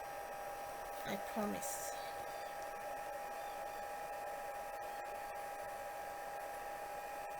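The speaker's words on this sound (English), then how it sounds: "I use my heat tool and it'll come off." A heat tool blows hot air steadily to lift glue from a papercraft card, a constant whirring hiss throughout while a voice speaks briefly near the start.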